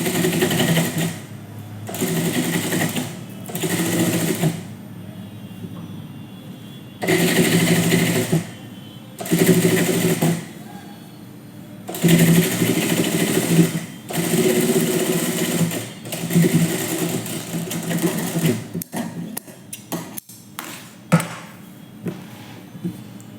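A sewing machine runs in repeated bursts, stitching back over earlier seams while making a readymade neckline (gala). It whirs steadily for a few seconds at a time with brief pauses, then ends in a few short stops and clicks.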